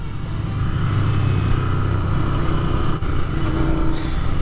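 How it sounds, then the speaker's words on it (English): A fuel-injected 650 twin engine of a Royal Enfield Continental GT 650 runs steadily during a test ride, with a loud, even drone and continuous wind rush, and no voice. "It blows me away how smooth this engine is. It's a 650 twin, fuel injected."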